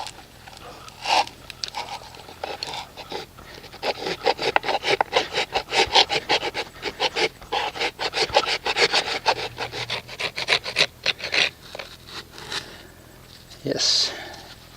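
A handsaw cuts through a broken septic cleanout pipe in rapid, steady back-and-forth strokes, close and rasping, with brief pauses near the start and end.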